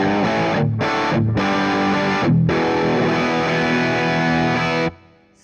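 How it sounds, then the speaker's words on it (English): Fulltone OCD hard-clipping distortion pedal on electric guitar, harsh and loud, played as several sustained chords with brief gaps between them before ringing out and cutting to silence near the end. "this is a hard clipping distortion"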